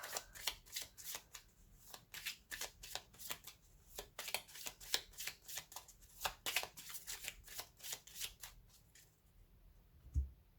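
Tarot cards riffled and shuffled in a long run of quick, crisp bursts, close and fairly quiet, ending in a soft tap near the end with no talk.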